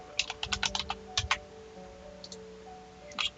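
Typing on a computer keyboard in short bursts of quick, close clicks, quiet overall, with a gap in the middle and a few more keystrokes at the end.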